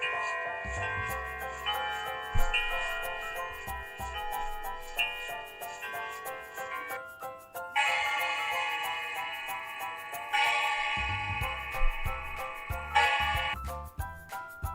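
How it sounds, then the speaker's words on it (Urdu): A large clock chimes out a ringing, bell-like melody with steady ticking beneath, the tones rising and falling in phrases over about fifteen seconds. "یہ تو بڑی والی گھڑی کی آواز ہے جس کو ہم گھنٹا کہتے ہیں"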